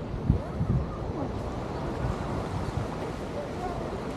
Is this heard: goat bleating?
no